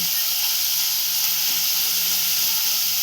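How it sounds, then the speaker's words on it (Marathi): Onions sautéing in a pan over medium heat until browned, a loud, continuous, even sizzle and hiss close up with no talk. "इथे आता आपण कांदा परतवून घेतोय तांबूस कलर येपर्यंत"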